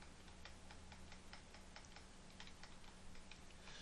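Rapid mouse and keyboard clicks from computer gameplay of Sky Factory, picked up by a sensitive microphone, a steady faint ticking pattern over a constant low hum.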